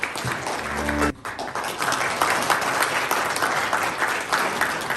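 Audience applause welcomes a singer onto the stage at a Korean showpera concert, a dense, steady clapping that swells in after a short musical sting and continues evenly to the end.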